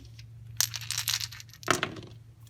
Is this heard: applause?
no